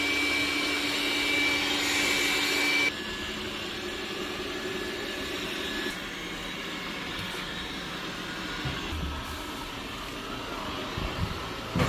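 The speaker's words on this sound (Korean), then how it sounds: "흡입 세기별 소음을 한번 체크해 보겠습니다." Xiaomi X10+ robot vacuum cleaner running indoors at different suction power levels, a steady loud whirring hum that drops in level at one step change and again at a second, continuous and alone.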